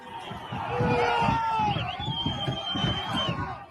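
A crowd of rioters storming the entrances of the US Capitol, a dense roar of shouting voices with rhythmic chanting pulses and a few rising yells, loud and continuous.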